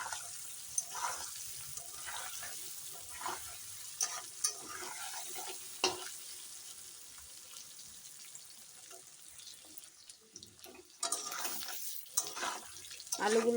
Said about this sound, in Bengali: মশলার মধ্যে সব মশলা দিয়ে দিয়েছি এখন একটু দেখো সুন্দর ভেজে নিচ্ছি